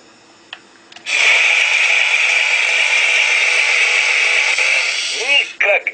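A steady, high-pitched whirring buzz of a small toy drill runs continuously for several seconds, then winds down with a short warble at the end.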